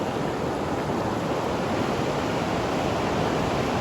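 The Bhagirathi, the Ganga's upper course near Maneri Dam, rushes past in a dense, continuous roar of flowing water, steady and close with no pauses.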